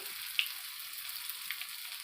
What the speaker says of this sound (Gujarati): આપણું તેલ ગરમ થઈ જાય એટલે આપણે એમાં આપણી ફ્રેન્ચ ફ્રાઈ છે એ તળવા માટે મૂકી દઈએ